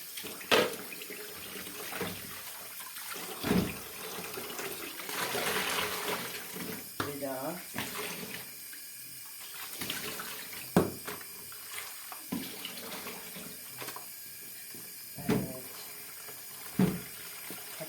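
Running tap water splashes as sheep's trotters are scrubbed and washed in a kitchen sink, an uneven wash of water broken by several sharp knocks and clatters, with someone speaking intermittently.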